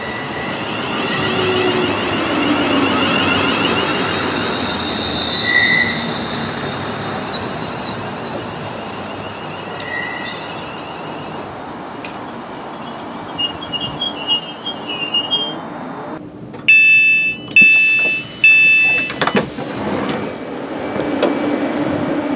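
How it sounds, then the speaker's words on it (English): A London Northwestern Railway train runs through a station on the Stoke-on-Trent loop: a long, low rolling rumble builds gradually, then sharp, high-pitched wheel squeals ring out in several loud bursts near the end. "I'm now waiting for the London North Western Railway service"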